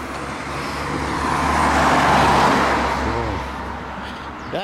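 Street traffic on a quiet Sunday: a car swells past close by and fades, over a steady low hum of road noise, with no talk.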